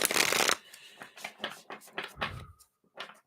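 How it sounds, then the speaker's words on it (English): Tarot cards being shuffled by hand, opening with a dense, loud riffle and followed by a run of softer sliding and tapping strokes, close up with no voice. "I'll send you some loving healing energy while I shuffle the cards for your 4 questions here."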